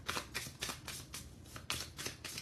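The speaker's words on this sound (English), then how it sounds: "So let's shuffle the Lenormand cards." Lenormand cards being shuffled in several quick riffling bursts, crisp and close, with short pauses between them.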